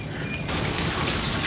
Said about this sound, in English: It's kind of misty, raining today.